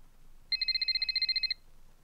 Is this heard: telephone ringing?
yes